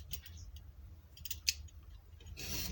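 Scissors snip and rustle through cardboard in a few quiet, scattered cuts against a low background hum.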